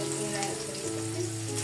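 Garlic sizzles steadily in a hot pan of oil, a continuous close crackle and hiss with no speech over it.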